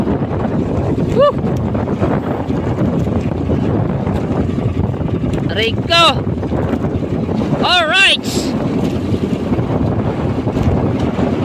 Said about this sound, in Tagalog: para hindi malakas yung dating ng hangin sa cellphone